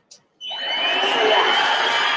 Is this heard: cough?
no